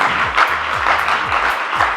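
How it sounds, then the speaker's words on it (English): Audience members clap steadily at a women's skills development program graduation ceremony in 2023, a dense, even patter of applause with a faint low rhythmic thump running underneath. "Please, can you give them a big applause"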